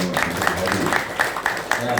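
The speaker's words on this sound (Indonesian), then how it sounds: "Tepuk tangan buat" A crowd claps at an Islamic boarding school farewell ceremony after student achievements are announced, with steady, fairly loud rhythmic applause filling the moment and a voice speaking over it.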